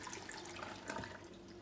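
Water pours into a blender jar holding black chickpeas in a home kitchen, a steady running splash and trickle lasting throughout, close and moderately quiet.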